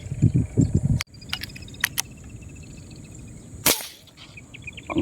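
A single sharp gunshot, fired at tilapia fish, cracks out mid-clip, loud and close, after brief talk and a few clicks, with insect-like buzzing in the background.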